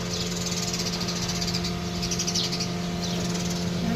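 House sparrows chirp near their nest in short, high, repeated calls. The chirps come fairly faint against a steady background hum, with no talking.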